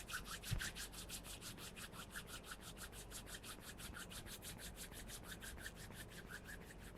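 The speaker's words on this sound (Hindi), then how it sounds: "अब आप दोनों हथेलियों को आपस में रब कीजिए।" Rhythmic dry friction of two palms rubbed briskly together during a yoga session, a steady rapid back-and-forth swish repeating throughout, close and fairly quiet.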